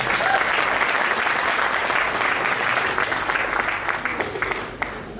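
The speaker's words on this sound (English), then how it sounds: "Can we just have another round of applause, please, for Jihad?" Sustained audience applause at an Australian Muslim achievement awards show, a dense, steady wash of many hands clapping close by for about five seconds, easing slightly toward the end.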